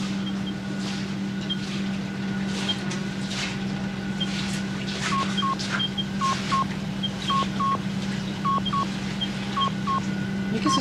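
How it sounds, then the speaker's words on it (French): A telephone signal beeps in short repeated paired tones over a steady low hum and background noise, recurring through the second half at a regular rhythm, fairly close and clear. "c'est mon signal de téléphone"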